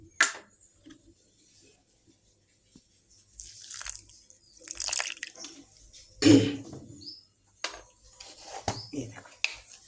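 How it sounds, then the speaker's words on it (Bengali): Water is poured onto spices and stirred in a bowl, making faint trickles and wet clinks of a spoon against the dish in short bursts between quiet pauses, close by. "এবার আমি জল দিয়ে মশলাটাকে গুলিয়ে নেব।"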